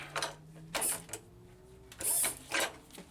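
Castle nut being tightened on a Z-axis mill power feed on an Acra mill: close metallic ratcheting clicks and short mechanical whirs in a few separate bursts, with quiet pauses between.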